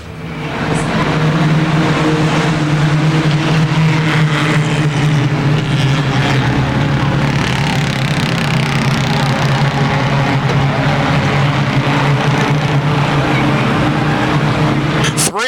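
A field of race cars thunders past at speed after a green flag at Motordrome Speedway, a loud, continuous engine roar with a steady drone and passing swells, with a commentator's voice faintly under the noise.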